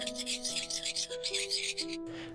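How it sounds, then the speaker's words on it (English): A hatchet's hollow-ground edge is honed in quick, faint rubbing strokes that come in short rhythmic bursts, with quiet music underneath. "So what I'm going to do now is hone over that hollow ground edge and make a flat over hollow ground profile."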